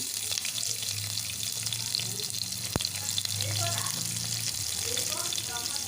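Round-sliced green chillies sizzling in hot oil in a pan, a steady close crackle with a sharp utensil click midway and light stirring scrapes, no speech.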